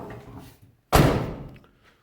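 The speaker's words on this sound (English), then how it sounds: "door still shuts real well" A single solid slam as the door of a Ford F600 truck is shut, a loud close thud with a brief metallic ring that fades, following some quieter handling noise.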